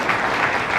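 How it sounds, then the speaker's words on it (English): A large keynote audience in New York claps for a team from Europe, a short, steady wash of dense applause with no break. "a big round of applause for our team from Europe"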